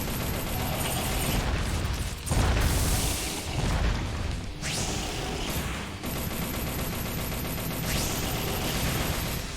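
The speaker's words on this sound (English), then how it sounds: "it has a secondary explosion as well after it hits." Weapon blast in the mech game M.A.S.S Builder, a loud impact boom followed by a secondary explosion, with dense rolling gunfire and booming bursts continuing throughout at close range.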